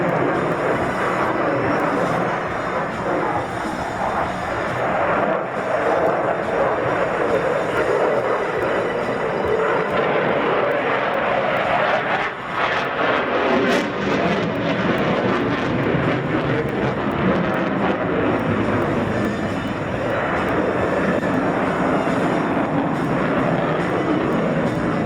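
Eurofighter Typhoon jet flying a display at an air show: a continuous loud, broad roar that swells and shifts as the aircraft turns, filling the whole stretch with faint crowd noise beneath.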